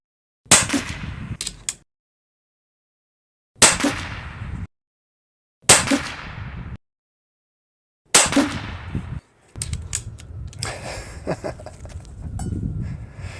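A Chiappa FAS AR611 .22 PCP target rifle fires 15.89-grain JSB pellets in four separate sharp cracks, each decaying quickly and followed by silence, then a stretch of muffled clicking and handling noise after the last shot.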